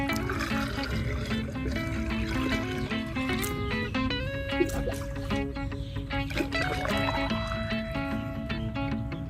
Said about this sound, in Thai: จากนั้นก็ทำการเติมน้ำที่ช่องนี้นะ